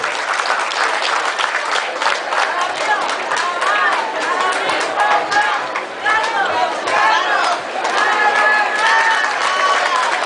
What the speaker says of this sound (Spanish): Fuerte el aplauso para nuestro diputado local de ese distrito